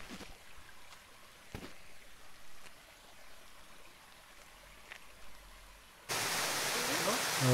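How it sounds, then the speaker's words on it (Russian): A waterfall in the Troodos mountains of Cyprus, running at its lower summer flow, is heard after a quiet outdoor stretch as a loud, steady broadband rush of falling water that starts abruptly near the end. "Летом водопад, конечно же, не такой полноводный, как весной."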